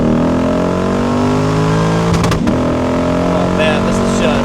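A 2012 Lexus IS F engine revving hard, its loud, sustained multi-toned roar climbing steadily in pitch, then a brief dip as it shifts before pulling up again, heard from close by.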